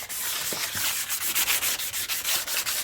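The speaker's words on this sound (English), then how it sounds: "I'm just using some 320 wet dry sandpaper here, and you can see it's cleaning up a little bit" Rusty Jones & Shipman 8-inch rotary table scrubbed by hand with 320-grit wet-dry sandpaper and diesel fuel, close-up rhythmic rasping strokes in quick back-and-forth succession.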